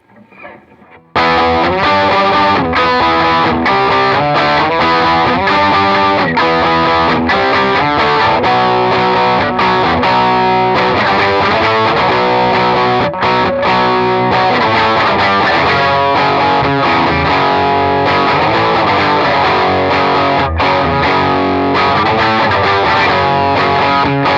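A heavily overdriven electric guitar through a Klon-clone overdrive pedal plays loud, crunchy chords and riffs continuously for over twenty seconds after a brief quiet start.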